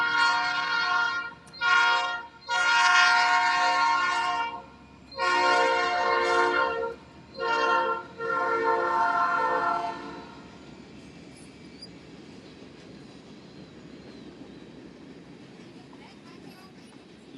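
A train passes and sounds its horn in several long loud blasts with short gaps, then fades into a rumbling wheel and railcar noise that continues quietly for several seconds.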